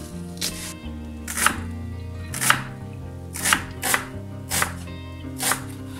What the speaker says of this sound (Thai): เมนูนี้เราจะใช้หอมแดงนะคะหั่นเป็นชิ้นเล็กๆนะคะเล็กที่สุดเท่าที่จะเล็กได้นะคะ